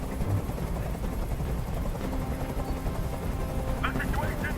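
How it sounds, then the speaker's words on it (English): A helicopter hovers in the video game Detroit: Become Human, a dense steady rotor rumble filling the scene beneath voices talking. "Tell that helicopter to get out of here."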